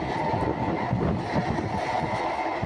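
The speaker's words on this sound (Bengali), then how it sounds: "এই দেখতে পাচ্ছেন ট্রেনটি সম্পূর্ণ ফ্লাইওভারের উপর দিয়ে আসছে" A train rolls along an elevated flyover railway in Dhaka, a steady, loud, close rumble with continuous wheel and carriage noise throughout.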